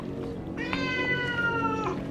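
A single drawn-out cat meow with clear harmonic tone, rising and holding steady before fading, heard close and alone over a low steady background hum.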